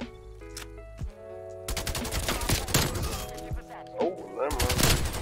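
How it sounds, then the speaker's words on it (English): Rapid automatic fire from a Krig 6 rifle in Call of Duty: Cold War, loud dense bursts starting after a quieter opening and running to the end, with talk over parts of it. "I don't think I like how fast I made this gun shoot."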